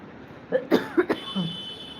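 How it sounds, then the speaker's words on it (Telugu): A woman gives a quick run of three or four close, dry coughs, followed by a softer throat-clearing sound in a quiet room. "నాకు దగ్గు వస్తుందండి"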